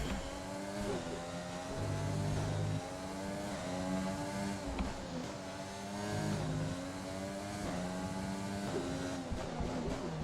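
A racing car engine in a video game drones through shifting revs, rising and dropping with gear changes for about ten seconds, loud and continuous with no talk over it.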